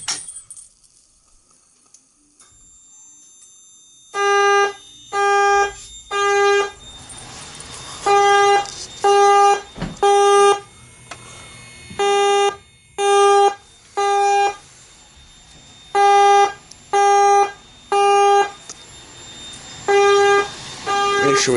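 A fire alarm speaker strobe system sounds after a pull station is activated, repeated loud electronic horn-like tone bursts in a steady on-off rhythm, close, with a brief quiet start before the pattern begins.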